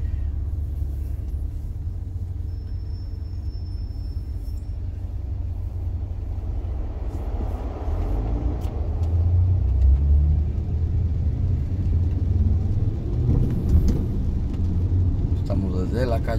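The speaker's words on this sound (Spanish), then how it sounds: "De lunes a viernes aquí esto es mucho tráfico." Street traffic on a weekday city street, a steady low rumble of passing cars and engines that swells louder midway through, with a voice talking over it.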